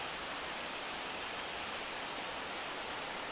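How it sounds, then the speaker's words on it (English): Jones Waterfall on the Appalachian Trail, a long cascade on a trail thru-hike, roaring as a steady, loud broadband rush that fills the whole moment without pause. "Waterfall."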